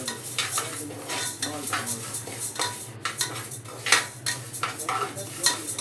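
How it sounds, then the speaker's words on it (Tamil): A spoon scrapes and stirs moong dal dry-roasting in a pan for sambar, with repeated close metallic scrapes and light clinks in an uneven rhythm over a faint sizzle, no voices. "இந்த வெயில் காலத்துக்கு கொஞ்சம் லைட்டாக வறுத்துக்கலாங்க"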